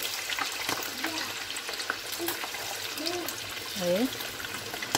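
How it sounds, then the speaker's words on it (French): Plantain fries frying in hot oil give a soft bubbling sizzle with light stirring, while someone speaks briefly over it at close range. "à peine vous les découpez, vous les passez directement dans l'huile"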